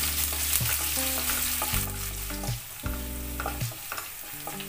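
Sliced garlic and ginger fry in a pan with a loud, close sizzle, broken by frequent stirring scrapes, while a tonal background sound plays underneath and no one speaks.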